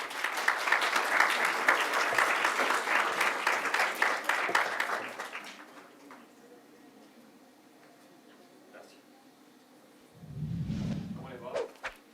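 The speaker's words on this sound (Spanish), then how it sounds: "Lo recibimos con un fuerte aplauso, por favor" An audience applauds to welcome a guest speaker at a lecture on Chile, a dense burst of clapping that fades out by about six seconds, followed by quiet room noise and a brief low thump near the end.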